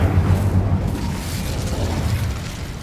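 Incendio fire spell cast in the video game Hogwarts Legacy, a loud whooshing burst of flame with a deep rumbling boom that gradually fades.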